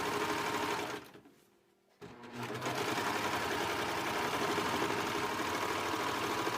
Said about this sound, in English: continue sewing over the reinforcement seam